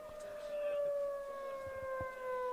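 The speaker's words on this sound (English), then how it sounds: "a siren is going loud, and they cut that off right in the middle" A civil defense siren wails steadily with a slowly falling pitch, faint and distant at a township baseball game, with crowd murmur and soft thumps underneath.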